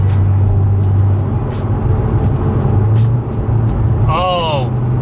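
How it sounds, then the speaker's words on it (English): A tuned, semi-stock Corvette engine rumbles loud and close as it downshifts using paddle shift, with a deep, steady drone that pulses through the gear changes, and a brief chirping tone rises near the end. "It is downshifting way better than stock."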